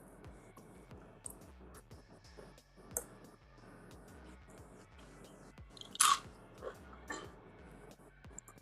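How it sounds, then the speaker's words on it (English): Crunchy cheese crisps being eaten up close, with repeated bites and crunches over soft chewing. The crunches come irregularly and are quiet overall, with a few sharper loud snaps. "y'all can eat these just the cheese crisps"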